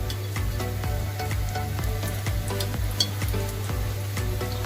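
Steady crackling sizzle of hot oil in a pan for Sri Lankan lamb rice, with scattered pops and stirring scrapes over a low hum.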